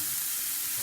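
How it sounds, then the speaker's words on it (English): Chopped onions sizzle in hot oil over sautéed garlic in a pan for a Haryanvi thali, giving a brief, dense, steady frying hiss up close. "once garlic is little bit sauteed, we are going to add onions"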